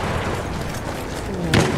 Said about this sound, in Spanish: Un balazo.